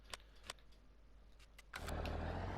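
A tractor engine in Farming Simulator 19 starts after a few faint clicks, then settles into a steady, loud low idle that continues to the end.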